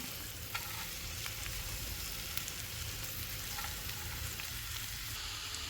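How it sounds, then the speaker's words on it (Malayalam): Bitter gourd and softened onion stir-fried in a pan, a steady dense sizzle with scattered scraping stirs throughout, moderately loud and without voices. "ഇനി പാവയ്ക്ക ചേർത്ത് ഇളക്കാം"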